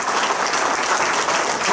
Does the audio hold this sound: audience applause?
yes